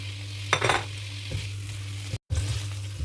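Tomato dropped into garlic and onion sautéing in cooking oil, a steady sizzle with a brief louder burst of stirring and splattering, then a short dropout before the frying resumes.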